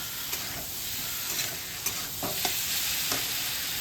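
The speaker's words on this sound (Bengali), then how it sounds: "একটু মশলাটা ভাজা ভাজা হতে থাক" Spiced masala sizzling in a hot pan for a duck curry, with a steady frying hiss broken by a few sharp scrapes and clacks as a spoon stirs it; no talking.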